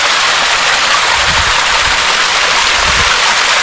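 Small rainy-season waterfall stream at a red-stone hill fort, heard as a steady broadband rush of flowing water close by with faint low rumbles.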